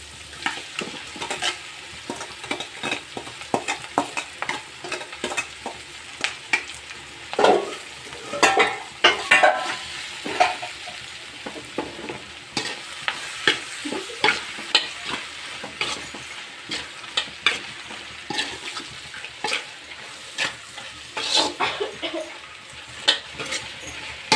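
Vegetable palya stir-frying in a pan with browned onions, a continuous close sizzle with frequent scraping and clinking of a ladle against the pan throughout.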